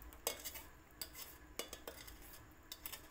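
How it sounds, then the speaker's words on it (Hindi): A utensil stirs roasted gram flour into warm sugar syrup for laddu, giving soft scraping and several sharp clinks against the vessel at irregular intervals, close but quiet, with no voices. "अब हम इसको अच्छे से मिलाएंगे।"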